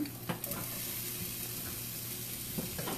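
Chopped onions are scraped into a pot and sizzle steadily up close, with a few scraping knocks at the start and end.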